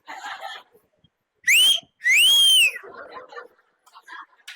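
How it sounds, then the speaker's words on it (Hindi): Two loud, sharp whistles, a short one then a longer rising-and-falling one, with quiet speech before and after. "अब एक बार वाली सीटी भी सिखाता हूँ जो छेड़ी जाती है"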